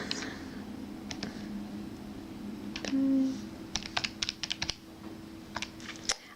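A series of small key presses on a calculator as numbers are entered, irregular clicks heard close up over a steady low background hum.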